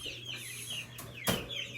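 Young Brahma chickens cluck softly in a steady chatter, with one sharper squawk in the middle, close by and without talk.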